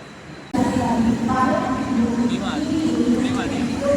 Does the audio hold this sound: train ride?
yes